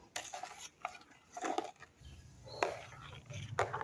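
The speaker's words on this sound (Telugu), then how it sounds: "స్ట్రాబెర్రీ, బాదం పప్పు ముక్కలు ఇవన్నీ వేసి బాగా కలపాలి." A spoon stirs strawberry and almond pieces into a lassi, making soft clinks and scrapes against the vessel in irregular bursts, close but faint, with a low rumble underneath.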